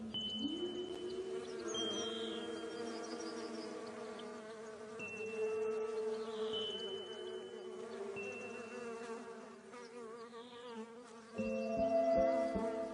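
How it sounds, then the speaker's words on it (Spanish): Bees buzz around spring flowers in a steady, continuous drone that keeps shifting in pitch, near and fairly loud, with no voices, and it grows a little louder toward the end. "Hay que agradecer especialmente a las abejas por la primavera."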